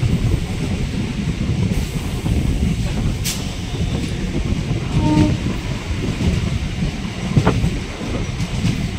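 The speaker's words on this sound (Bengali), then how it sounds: "চলে এসেছি আমি এখন আরামবাগ স্টেশনে। গাড়ি ঢুকছে।" A train pulls into Arambagh station in West Bengal, a steady rolling rumble of the cars on the rails with a faint horn-like tone midway and brief bright squeals, continuous and fairly loud throughout.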